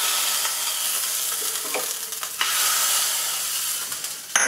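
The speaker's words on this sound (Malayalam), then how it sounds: "അപ്പോൾ നമ്മളുടെ കടുക് ഇവിടെ വറുത്ത് നമുക്കങ്ങ് ഇട്ട് കൊടുക്കും." Mustard seeds frying in a pan for tempering a coconut chutney give a continuous bright hiss and sizzle with a few faint pops and stirring scrapes, close and steady with no voices.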